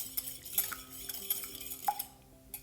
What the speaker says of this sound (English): I beat it a little bit